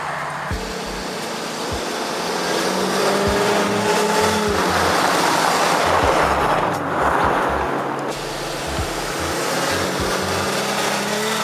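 A 2000 Ford Excursion engine idles while warming up, giving a steady low rumble under faint rattles and intermittent knocks, with a brief surge of broadband noise partway through.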